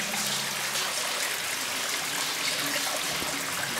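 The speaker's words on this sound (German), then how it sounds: "von außen fließt hier das Wasser rein" Water flowing in from outside into an old Nazi-era tunnel, a steady hissing trickle and stream echoing in the enclosed space, continuous and moderately close with no talk.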